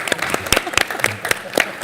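A few people clap during a studio interview, sharp separate hand claps in an uneven rhythm over about two seconds, close and fairly loud.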